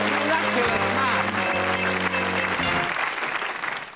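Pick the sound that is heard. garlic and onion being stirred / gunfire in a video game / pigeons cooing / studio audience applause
studio audience applause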